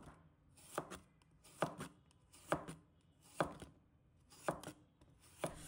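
Cucumber being chopped with a knife on a board for a salad, about seven evenly spaced, crisp close chops with quiet pauses between them.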